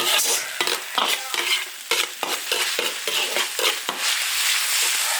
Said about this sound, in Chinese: 把肉末炒香，还炒肉丸，炒入红油。